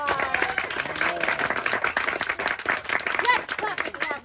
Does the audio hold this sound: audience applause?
yes